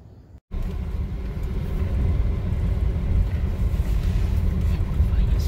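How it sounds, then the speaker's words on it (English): A car driving back down a hill from Doi Saket Temple, a steady, loud engine and road rumble with gusts of wind buffeting the microphone, after a brief dropout at the very start. "This will be the drive back down the hill"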